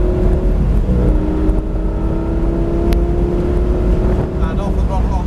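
A Lamborghini engine on a track driving experience drones in a loud steady hum from inside the car, throttle held gently as it pulls back out slowly.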